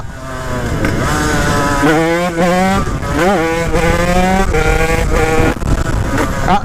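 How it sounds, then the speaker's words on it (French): A motorcycle engine fitted with a new aluminium block revs hard in rising and falling sweeps during a wheelie attempt, loud and close throughout with the pitch climbing as it accelerates. "je vais essayer de reposer la moto parce que là je la fais pousser"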